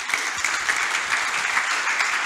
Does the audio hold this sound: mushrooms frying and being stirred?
no